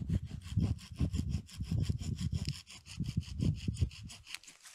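A hand saw cuts wood outdoors while a survival shelter is built in sparse woodland, giving slow, steady back-and-forth rasping strokes at a moderate distance, about two strokes per second.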